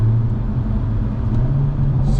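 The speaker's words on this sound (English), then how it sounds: "Super smooth downshifts." A Hyundai Elantra N downshifting through its paddle shifters, with a steady low engine rumble inside the cabin and a subtle rise in tone near the end. No voices can be heard.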